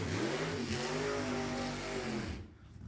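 A 1986 Corvette drag car engine revving hard at Sacramento Raceway during Funny Car qualifying, a loud, close, rising roar that holds for a couple of seconds and then cuts off.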